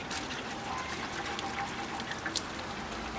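Water pours and trickles steadily into a container being half filled and screened, a soft continuous splashing hiss with a few brighter drips near the end, fairly quiet.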